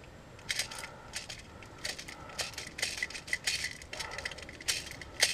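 Airsoft BBs of 0.25 g rattle and clink inside a feed loader for an A&K M1892. The close, dry clicking and shaking comes in uneven bursts over a soft background hiss.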